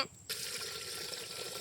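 Steady running water starts abruptly after a brief silence, a continuous hissing flow like liquid poured into a vessel, close and fairly loud.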